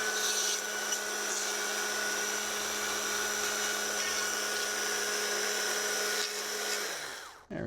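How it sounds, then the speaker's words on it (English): A powered saw runs in a steady, high whine while gently trimming wood on a chainsaw-carved Sasquatch, holding an even pitch before dropping off abruptly at the end. "I'm going to sneak in here with this saw real gentle like"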